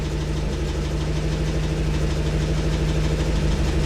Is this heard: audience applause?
no